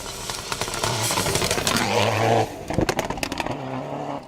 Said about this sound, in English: Car number 10 on the Evo 10.